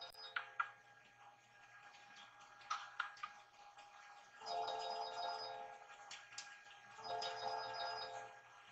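Faint, distant generic cell phone ringtone, two soft bursts of warbling electronic tones rising over a quiet room with light ticking and clicking in between.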